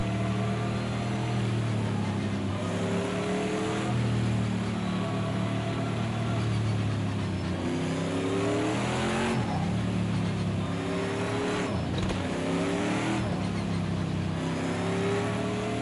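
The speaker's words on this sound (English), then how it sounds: "Oh, you can hear that turbo whistle going." A vintage race car engine in the video game Project CARS 2 at Le Mans revs and shifts through gears with a high, rising turbo whistle over the constant roar, sustained and close throughout.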